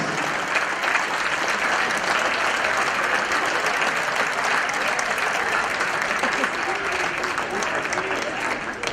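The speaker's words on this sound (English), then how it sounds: "Let's give a round of applause to all of these former coaches and the wrestlers" A gym crowd at a high school varsity wrestling meet applauds former coaches and wrestlers during a 1,000th-win celebration, a continuous, even wash of clapping lasting the whole stretch.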